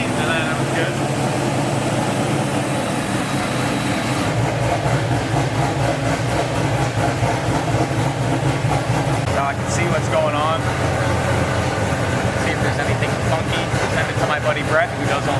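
A Trans Am's engine idles during a test and tune session, a steady low rumble that runs a little lumpy before smoothing out, continuous throughout and partly under people talking.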